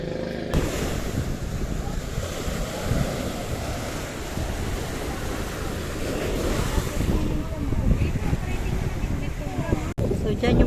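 Steady loud rumble of an engine-driven boat moving over water toward the Underground River at Sabang, with wind buffeting the microphone and a brief cut near the end.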